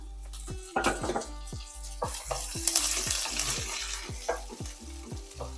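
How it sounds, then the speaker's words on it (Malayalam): Curry leaves sizzle in hot oil alongside green chillies for carrot rice, a continuous crackling fry under repeated scraping strokes of a spoon against the pan, close and with no voices. "ഇതിനകത്തേക്ക് നമുക്ക് കുറച്ച് കറിവേപ്പില ചേർത്ത് കൊടുക്കാം"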